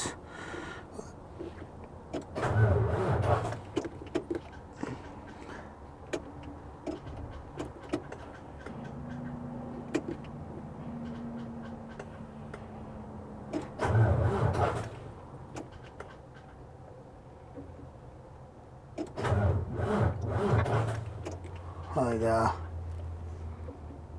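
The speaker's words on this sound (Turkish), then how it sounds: "Bu arada soğuk bir araba sesi duyabilirsiniz." A cold car engine runs with a steady low rumble, swelling into louder surges every few seconds, while voices come and go over it.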